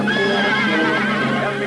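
A horse in a western film neighs in one loud, close, sustained whinny that wavers throughout and then fades slightly at the end.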